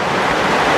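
Floodwater rushes through a flooded city avenue after heavy rain, a loud, steady, broadband roar of churning water that is close and continuous with no voices.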